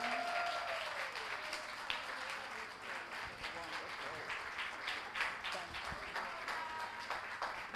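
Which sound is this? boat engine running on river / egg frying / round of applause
round of applause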